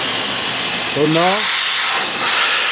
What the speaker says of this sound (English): all the air is coming, nitrogen vapor.